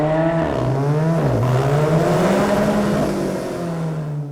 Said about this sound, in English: True Alfisti will immediately recognize the distinctive Alfa Romeo 4C exhaust note, produced by a specially tuned exhaust.